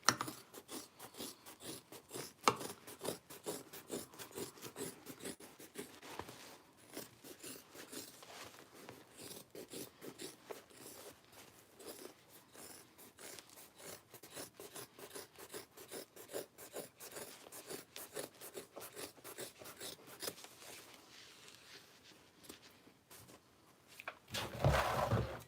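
Scissors trimming excess material from a handbag being sewn, a long run of quick rhythmic close snips and rasping cuts, with a brief louder rustle at the end and no talk.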